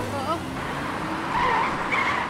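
Car tires squeal and skid in an animated Robocar POLI cartoon, with a high screech rising over engine noise that comes in two bursts. A voice is heard early on.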